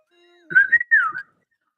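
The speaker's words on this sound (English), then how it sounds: "You know you gotta do the famous whistle, right?" A person whistles a short, familiar tune alone, a quick rising-and-falling melody in two close phrases with no talking over it.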